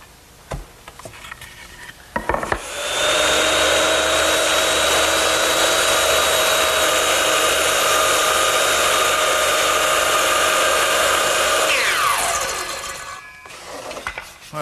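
A power saw cross-cutting wood for stair parts in a workshop: a loud, steady high whine holds for about nine seconds, then winds down, with faint handling noises before and after.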